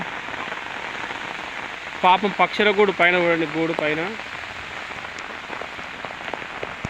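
Heavy rain falling steadily in Kadthal, a constant hiss of drops on surfaces while a person talks over it for a couple of seconds partway through.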